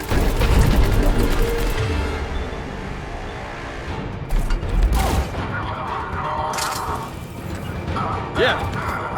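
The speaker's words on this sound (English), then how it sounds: "Here come the grenades." Grenades explode in Mass Effect 3 amid a firefight, with heavy booms and crashing blasts mixed with gunfire, loud and close over continuous battle noise.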